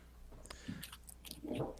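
Someone chews food close to the mic, with a few soft, wet bites and crunches in short bursts and no talking over them.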